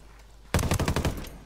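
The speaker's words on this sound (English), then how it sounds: "I love those gunshot sounds" Rapid gunfire in the Ghost Recon Wildlands video game, a loud burst of about ten closely spaced shots starting suddenly after a quiet moment and running for roughly a second.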